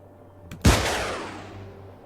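An anti-air missile launches in ARMA 3 with a short click and then a loud, close blast whose roar fades over about a second and a half.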